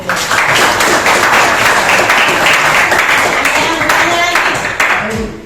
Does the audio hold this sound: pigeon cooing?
no